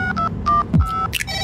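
Telephone keypad dialing tones, a quick series of distinct DTMF beeps of varying pitch played in an irregular sequence, clear and close with no voices.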